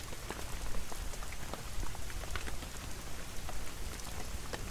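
Steady rain falls in the video game Klepto, a dense, even patter of drops on surfaces with scattered sharper taps, continuous and moderately loud with no voices.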